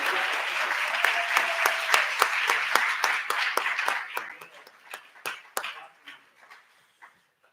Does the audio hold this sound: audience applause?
yes